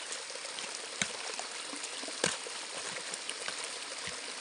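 Irrigation water from a distant tank runs through an earthen canal into a hill farm field in Uttarakhand on a December morning, a soft continuous trickle and gurgle with occasional small splashes, faint and close, with no voices.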